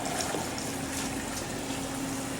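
Liquid being poured into an E3 electrocoagulation water-treatment unit, a steady loud rushing, gushing flow with a faint hum beneath it.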